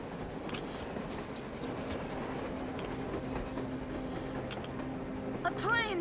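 A train passes in the video game Metro Exodus, a steady rolling rumble with rhythmic clatter and a squealing sound near the end.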